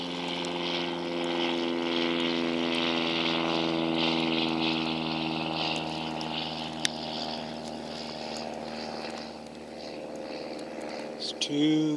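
A model airplane's propeller engine flies past with a steady, buzzing harmonic drone that swells, then gradually eases and fades toward the end.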